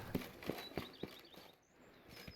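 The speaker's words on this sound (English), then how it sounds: "Even a horse drops if you ride it at a constant gallop." Horse hooves pounding at a gallop in The Witcher 3: Blood and Wine, a run of four evenly spaced, fairly loud thuds that then trail off, with faint ambient chirps overhead.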